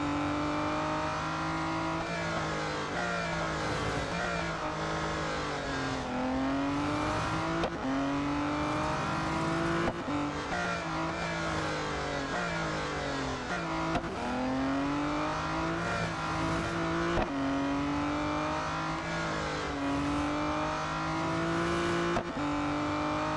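Aston Martin Vulcan AMR Pro in the Real Racing 3 video game: a continuous high-revving race engine climbing and dropping through gear changes, with repeated shifts and occasional tire squeal, loud and unbroken throughout.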